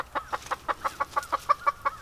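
Chickens clucking in a backyard fruit garden, a close, steady run of about a dozen evenly spaced short clucks in quick succession, clear and alone over a quiet background.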